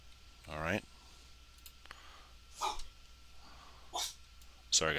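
A pet dog barks a few times in a home, sharp short barks spaced across the moment, moderately near, with no talking over them.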